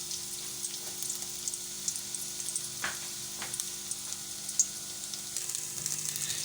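Chopped garlic frying in about four tablespoons of oil for dry chilli chicken, a steady close crackling sizzle with scattered pops and a couple of sharper spatter bursts, no voices.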